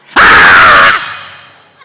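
A voice imitating a scream of terror: one loud, sustained shriek lasting under a second, cutting off abruptly and leaving a brief room echo that fades away.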